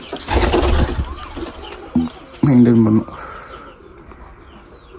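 Pigeons coo in a pigeon loft, a few low throaty calls in short bursts heard close by, with someone talking over part of it.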